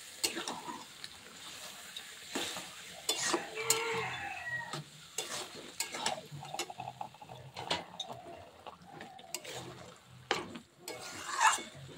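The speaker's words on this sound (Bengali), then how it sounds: "আমি তেলে দিয়ে দিলাম, একটু নাড়াচাড়া করে নেব ভালোভাবে" Spices frying in oil for a kholiya curry are stirred, giving repeated scraping and rasping strokes over a soft sizzle, fairly close and moderately loud throughout.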